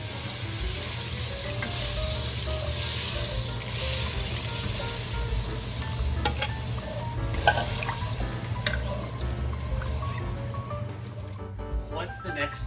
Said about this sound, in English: I am ready to add in 3 cups of clam juice